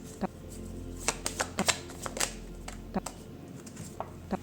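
A deck of cards being shuffled in a quick, uneven series of crisp riffling snaps and flicks, close and moderately loud over a quiet room background.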